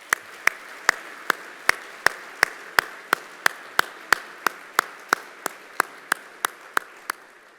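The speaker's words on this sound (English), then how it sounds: "Round of applause, please." Applause at a North San Antonio Chamber State of Business luncheon after a university ROTC color guard, heard as about eighteen sharp, evenly spaced claps close to the microphone, with a faint murmur of crowd behind them.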